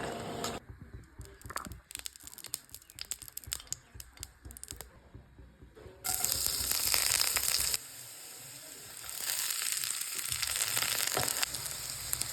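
Local garden greens and new potatoes fry in very little oil with salt and turmeric: irregular close crackles and stirring scrapes at first, then a louder, fuller sizzle takes over partway through.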